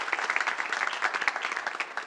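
An audience at a lecture claps for an incoming speaker: a short burst of dense, steady applause from a moderately sized crowd, heard alone.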